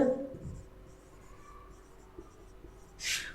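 Someone writes an accounting journal entry on a board, making a few short, faint scratchy strokes, with a brief voice at the start and a sharper scrape near the end.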